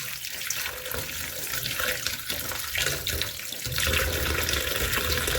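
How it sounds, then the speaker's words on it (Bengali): Mushrooms being rubbed and rinsed under a running kitchen tap, a continuous splashing rush of water with brief changes as the stream hits the mushrooms and hands, close and steady. "এবার মাশরুমগুলোকে খুব ভালো করে রানিং ওয়াটারে খুব ভালো করে কষলে কষলে এইভাবে ধুয়ে নেব"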